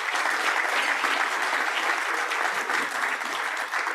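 A room full of people applauds the honored table at an economic outlook luncheon, dense steady clapping that holds at an even level for several seconds without any voices.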